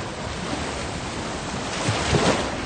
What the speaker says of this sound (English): Walking on the beach with my feet in the water.